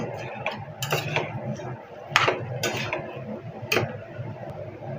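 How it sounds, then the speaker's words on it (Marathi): Potatoes with a pinch of turmeric are sautéed and stirred in a pan for a spicy potato bhaji. A spoon clanks and scrapes against the metal in repeated sharp knocks over a low, busy cooking background. "आपण मस्त बटाटा परतून घेऊ"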